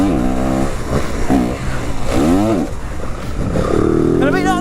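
A 2022 Yamaha WR250F dirt bike rides on a motocross track, its engine revving in repeated rising and falling bursts, close and loud, with a voice talking over it.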